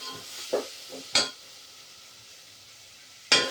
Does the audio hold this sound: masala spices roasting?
yes